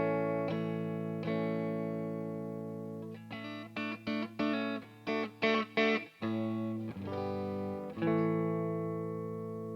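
Electric guitar on the neck pickup through a Hot Rod Deluxe amp plays clean, ringing chords and short choppy strummed stabs, close and alone with no talking.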